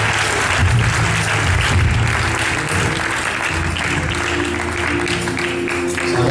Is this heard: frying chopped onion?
no